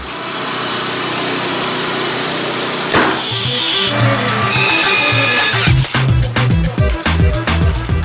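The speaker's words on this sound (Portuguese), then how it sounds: "Sons da modernidade tecnológica que tomou conta dos canteiros de obras." Construction site machinery drones steadily with a high engine whine, then breaks into loud, rhythmic mechanical knocking and grinding, close and continuous.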